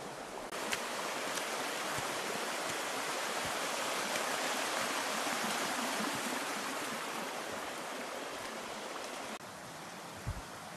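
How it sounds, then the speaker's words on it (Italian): Sulphurous spring water at Padola runs steadily over terraced rock and small cascades, a constant close rushing and splashing with no talk. "qui l'acqua addirittura forma dei terrazzamenti con delle piccole cascatelle"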